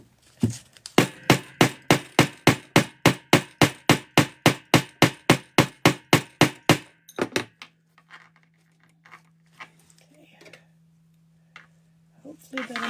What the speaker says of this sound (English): get ready for some noise, because we're going to hammer that down.